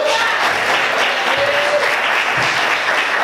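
A church congregation applauding during an evening service, a full, loud wash of clapping that holds steady throughout, with faint tonal background sounds beneath it.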